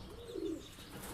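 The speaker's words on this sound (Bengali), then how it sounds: "পায়রাগুলো প্রচণ্ড ভয়ে রয়েছে।" Pigeons in a breeding loft give a single soft, low coo, fairly faint against steady background hiss, with no talk over it.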